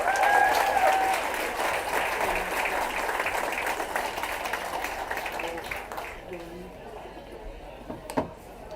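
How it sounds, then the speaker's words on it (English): A crowd of fans at a Hendersonville Honeycrisps ballpark event applauds the Carolina Concert Choir, loud sustained clapping that gradually thins and fades, with a sharp knock near the end. "And fans, let's give another round of applause for the Carolina Concert Choir."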